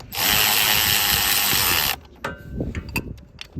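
On a brush hog clutch, a loud steady whirring tool runs for about two seconds, then a ratchet tightening the clutch nuts gives a few quieter, irregular clicks and rattles.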